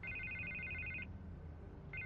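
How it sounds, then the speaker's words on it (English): A telephone rings in a Batman video game, an electronic trilling ring lasting about a second, a pause, then the ring starting again over a low background hum, clear and moderately loud. "I can't get the phone to stop ringing."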